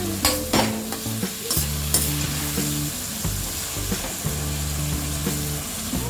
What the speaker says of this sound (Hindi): टमाटो सॉफ्ट होने तक हम इसे फ्राई करेंगे।